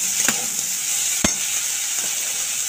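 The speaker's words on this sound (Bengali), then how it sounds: "আর দিয়ে দিচ্ছি কড়াইশুঁটি আর ভুট্টাটা দিয়ে। দেখো এটা দিয়েও আমি ভালো করে নেড়ে নিচ্ছি।" Potatoes, peas and corn being stirred in a hot wok, a steady frying sizzle underneath with a few sharp scraping knocks of the spatula, close and alone without voices.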